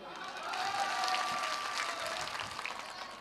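Crowd applause at an AIMIM political rally in Kishanganj, Bihar: a dense, steady burst of many hands clapping together that swells early and holds, slightly tapering toward the end, with faint crowd murmur underneath.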